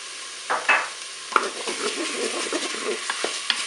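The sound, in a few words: garlic sizzling as it is added to the pan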